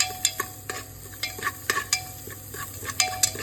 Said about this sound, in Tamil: அரைச்சி இஞ்சி பூண்டை எடுத்து இப்போ உள்ளே போடலாம். உள்ளே போட்டு அது ஒரு 2 கிண்டு